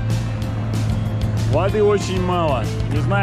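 A steady low engine drone from a raised Yamaha outboard motor pushing a boat up a shallow taiga river, running under someone speaking, with a constant mechanical hum.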